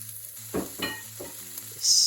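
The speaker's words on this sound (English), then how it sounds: "which I'm going to stir and just saute a little bit until they're tender" Leeks, onions, garlic and potatoes sauté in a pan, a faint sizzle broken by a few short scraping stir strokes, close and brief.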